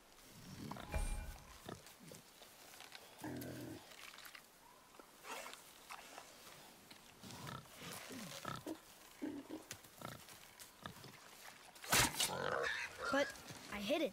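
Wild boar from God of War grunting and squealing in bursts, mixed with game effects and a thump, while voices talk over it throughout.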